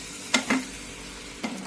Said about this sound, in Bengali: এটা সমানে নেড়ে যেতে হবে, একদম লো গ্যাসে, একদম শুকনো না হওয়া পর্যন্ত সমানে নেড়ে যেতে হবে।